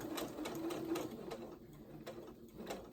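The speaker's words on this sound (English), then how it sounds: "I'm gonna sew down to my first dot" A domestic sewing machine runs a short burst of rapid, even stitching through shorts fabric, close and steady, its rhythmic needle clatter continuing without voices.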